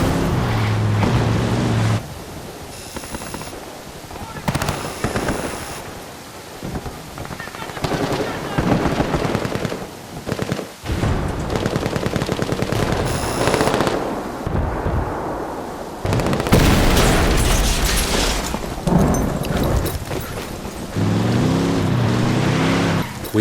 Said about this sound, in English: we blow that C4 we placed earlier